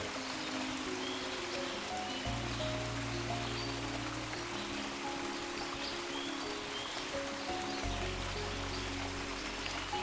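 A stream flows past temple bathing steps beneath a banyan tree at Thirumanthamkunnu, Angadipuram: a steady, even rush of running water, continuous and moderately close, with a low hum coming and going underneath.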